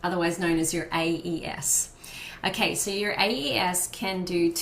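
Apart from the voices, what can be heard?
No everyday noises stand out.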